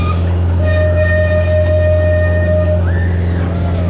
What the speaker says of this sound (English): We're going to go and enjoy the train